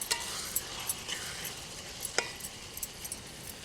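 Ginger and garlic frying in a pan while being cooked for a quail egg curry: a soft, steady sizzle with scattered light clinks and scrapes of a utensil against the pan, fairly quiet throughout.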